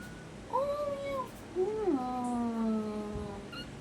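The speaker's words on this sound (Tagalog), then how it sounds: "Oh, meow." A pet cat meows several times in drawn-out, rising and falling calls, close and moderately loud, with a person's voice briefly mixed in.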